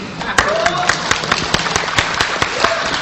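An audience claps during a speech on Pancasila, with loose, irregular hand claps ringing out over a background of murmuring voices and a tonal whistle-like sound.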